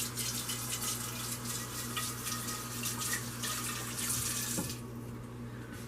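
Water runs steadily from a kitchen tap as fingers are rinsed under it. The hissing flow is close and continuous, then eases near the end, and nobody speaks.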